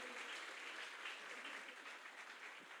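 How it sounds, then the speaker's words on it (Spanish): An audience claps in steady, dense applause for a young man named Alec. The sound is faint and distant, a uniform rustling wash lasting a few seconds with no talking. "Denles un aplauso, por favor, Alec."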